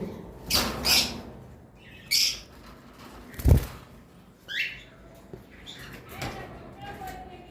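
A pair of lovebirds, a red-head opaline female and a pied male, give scattered sharp chirps and squawks in a bird farm, with brief bursts spaced through the moment and a voice talking over them.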